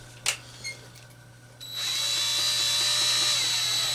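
A Dremel rotary tool drills a small hole in part of a tabletop radio receiver, starting after a couple of faint clicks and then holding a loud, steady high-pitched whine close by.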